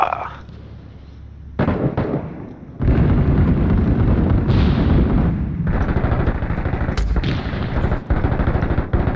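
Video game combat set in Fallujah: a grenade blast and sustained gunfire crack in dense, loud bursts over several seconds, with sharp reports punctuating a continuous roar of shooting.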